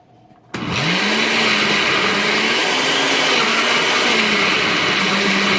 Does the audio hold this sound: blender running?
yes